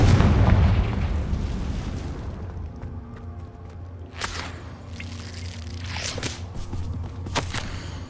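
Confringo blasting spell explosion in the Hogwarts Legacy video game: a loud, booming burst that rumbles and fades over about two seconds, followed by quieter crackles and a couple of sharp pops.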